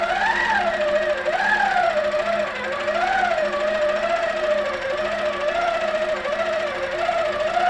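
A quilting machine stitches a quilt with a continuous close mechanical whir, its pitch wavering up and down as the stitching speed changes.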